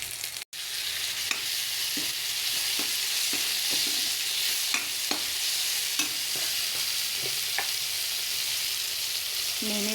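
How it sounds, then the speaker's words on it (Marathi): Tomatoes sizzle steadily in a hot frying pan as upma cooks, with intermittent clicks and scrapes from stirring over the continuous fry. "आता आपण टाकूया टमाटा."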